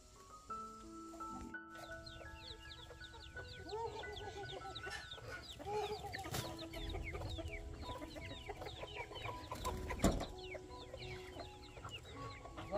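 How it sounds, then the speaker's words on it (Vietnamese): Chickens cluck repeatedly in a farmyard, including a hen that has just laid an egg, with overlapping calls and cackles at a moderate distance, fairly soft overall. "Con gà đẻ quả trứng này."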